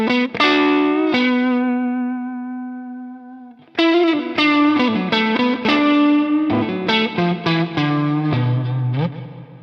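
An electric guitar played through a J. Rockett Uni-Verb reverb and modulation pedal, with a long sustained chord swirling with chorus-like modulation and a reverb tail, then a run of plucked notes and chords ringing out, loud and alone.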